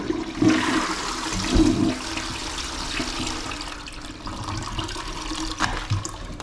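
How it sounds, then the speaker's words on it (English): A toilet flushes during a bathroom rip-out, a loud close rush of water that surges, then keeps running and gurgling as the cistern refills, with no one speaking. "We'll give it a flush first."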